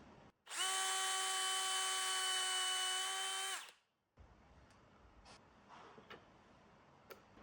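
Screwdriver spinning a bit through a pin-hole jig into wooden hinge stock, one steady high whine for about three seconds that stops abruptly, followed by quiet handling clicks and light knocks.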